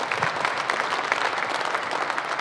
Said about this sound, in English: Let's give all those folks a big round of applause